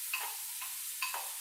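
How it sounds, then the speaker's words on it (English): Steady frying sizzle hisses from a pan of onions and chopped celery for pasta e fagioli soup, broken by a couple of brief metallic clinks of stirring; no one talks. "And as that is cooking now, you can really hear it sizzle."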